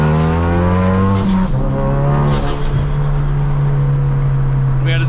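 A 450 hp Ford Focus RS revs hard under acceleration, a loud, close engine drone whose pitch climbs, dips at a gear change, then holds steady, with a brief burst of noise at the very end.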